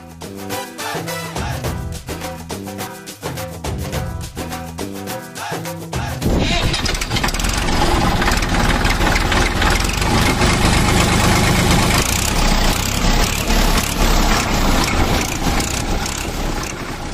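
A tractor engine cranks with a rapid stuttering rhythm for several seconds, then catches and settles into a loud, steady diesel idle with a constant rumbling throb.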